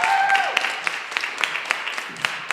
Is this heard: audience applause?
yes